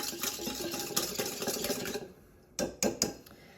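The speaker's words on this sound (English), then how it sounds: "Give it a nice stir so it gets all nicely mixed and incorporated together" A spoon stirs a yeast and sugar mixture in a bowl, scraping and clinking steadily against the sides for about two seconds, followed by a pause and then three distinct taps.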